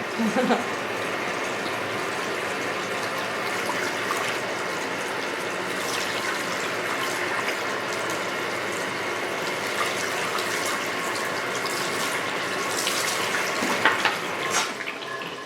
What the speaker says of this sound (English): So far rinsing out.